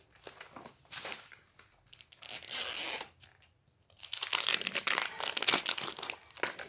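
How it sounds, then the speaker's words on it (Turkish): Plastic wrapping on an L.O.L. Surprise ball toy crinkles and tears in bursts of close, loud rustling, with a short pause partway through and no talking. "Şimdi ben bu lol topunu da açıyorum"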